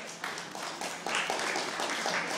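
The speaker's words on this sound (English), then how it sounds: "can we give Julie a big round of applause for me?" An aquarium audience gives a diver a round of applause, a steady wash of many hands clapping at moderate distance that swells slightly halfway through and holds to the end.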